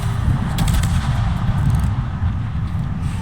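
Naval guns firing armor-piercing shells in World of Warships, a dense rumbling barrage of low booms with brief crackling bursts, continuous and loud.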